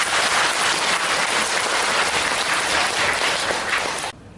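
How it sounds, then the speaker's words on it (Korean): Loud, dense applause fills a hall at a New Year dharma service in a Korean Buddhist temple, sustained clapping from the audience that stops abruptly near the end. "그 제주도 오신 분들에게 박수 한번 치주세요."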